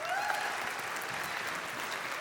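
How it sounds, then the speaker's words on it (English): Audience applause at an India Day 2025 speeches and awards event, honoring sponsors, players and supporters: a steady, dense wash of many hands clapping at moderate distance, sustained evenly throughout. "please join me in giving a round of applause for all our sponsors, players, and supporters who made this event happen."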